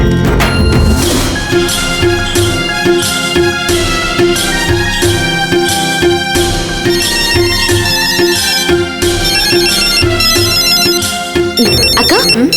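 A mobile phone ringtone for an incoming call plays loud and close, a repeating melodic tone pattern running steadily for several seconds before a brief break near the end.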